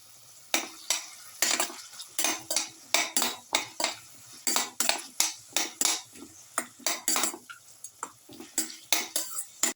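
A metal spatula repeatedly scrapes and clatters against a pan while a winter melon mixture is sautéed and stirred, with close, rhythmic strokes over a faint sizzle and no talking.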